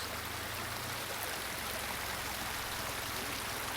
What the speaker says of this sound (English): Just got done hanging out at this waterfall up here